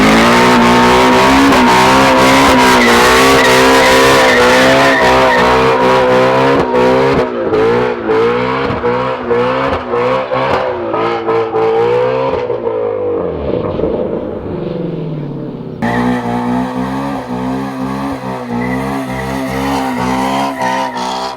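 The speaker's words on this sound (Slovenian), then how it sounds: "mogo tudi burnout narediti" A Shelby car performing a long burnout, loud engine revving hard over continuous tire squeal, with the pitch dipping and surging as the wheels spin, close and unbroken throughout.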